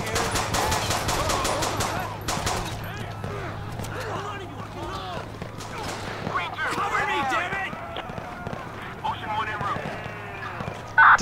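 Rapid gunfire in the video game GTA 5 during a police shootout over a stolen money truck, bursts of shots crackling over ongoing game noise and voices throughout.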